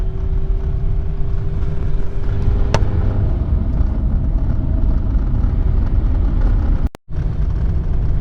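A car drives along near the River Murray in South Australia's Riverland, with a steady loud rumble of engine and road noise, a faint tone early on, and a momentary dropout near the end.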